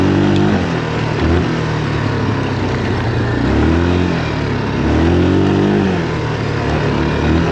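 A Yamaha 350 quad rides through a forest, its engine loud and close, droning steadily with repeated rises and falls in pitch as the throttle opens and eases.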